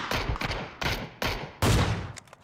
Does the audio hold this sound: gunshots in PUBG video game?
yes